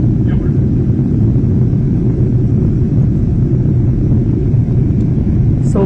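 Steady, loud broadband drone inside the cabin of a small private airplane carrying ten people on a flight to Florida, a constant low rumble of engine and propeller that fills the whole stretch with no break.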